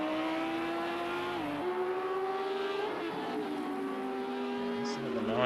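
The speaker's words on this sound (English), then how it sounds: "Listen to the noise of that Audi and the Lamborghini in close proximity to each other." Audi and Lamborghini GT3 race car engines in Project CARS 2 at Monza, howling together at high revs close to each other, pitch dipping and climbing through gear changes in a continuous, loud drone.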